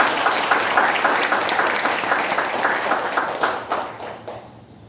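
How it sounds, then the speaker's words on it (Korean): Warm applause from a congregation at a church service celebrating its move to a new building, dense sustained clapping that holds steady and then tapers off near the end. "뜨겁게 한 박수 한 번 쳐주시기 바랍니다."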